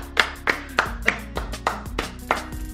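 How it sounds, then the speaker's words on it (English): Slow, sparse claps from a few people at a livestream, about eight distinct claps spaced roughly a third of a second apart, close and fairly quiet over faint background sound. "We clapping for Adin."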